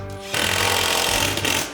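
Power tool tacking something down to a floor during a bedroom remodel in an 1880s farmhouse, a loud harsh rattling burst that kicks in abruptly after a low motor hum and runs steadily for over a second, close by.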